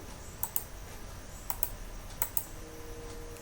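Keys on a computer keyboard are tapped while a QBasic program is edited, a few sharp clicks in small pairs and clusters spread across a quiet room, close and distinct, with no speech.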